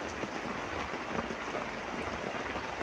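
Steady rain falls on a cold morning in the Philippines, a continuous even hiss of drops at moderate level with no voices and no breaks.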